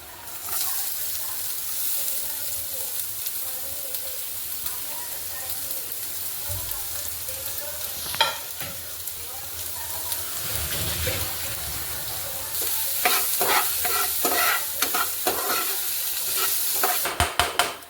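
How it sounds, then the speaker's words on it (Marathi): Finely chopped green chilies and garlic roast lightly in a pan with a soft, steady sizzle, joined by louder scraping stirs and clinks toward the end. "बारीक चिरलेली मिरची टाकूया जास्त भाजायची नाही थोडीशी भाजून घ्यायची आहे"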